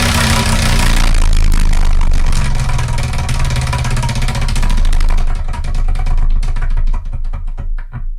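A spinning prize wheel whirs and clicks rapidly at first, its ticking slowing and thinning out as it winds down, heard loud and close over background music.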